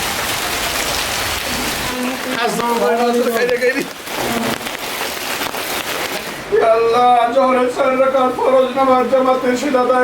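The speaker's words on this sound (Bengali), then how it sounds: "নামাজও শেষ হয়েছে আর বৃষ্টি বেড়ে গেছে" Heavy rain pouring down in a steady, dense hiss that continues beneath a voice speaking and reciting.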